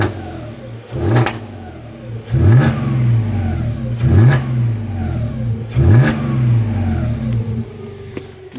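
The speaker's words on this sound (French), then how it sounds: "je vais mettre 2-3 coups de gaz" A warm car engine, heard close from underneath the vehicle, takes four sharp throttle blips at roughly even intervals, each rev rising quickly and falling back to a rough idle between them.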